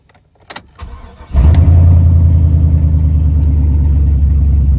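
A car engine cranks briefly and catches, then settles into a steady, loud idle close by, with a few clicks and clunks just before it starts, right after the battery has been replaced.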